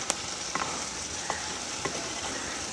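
Onion curry sizzling steadily in a pan in a village kitchen, with a few sharp scrapes and knocks of the stirring spoon spaced through the constant frying hiss, close and fairly loud.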